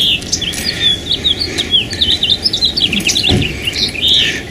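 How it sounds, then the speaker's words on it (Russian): A songbird sings outdoors in a cold winter setting, rapid bright chirps and trills repeating close by over faint background hiss. "а тут такое пение птиц"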